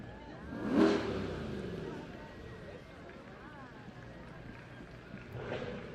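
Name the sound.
Corvette engine revving in a parade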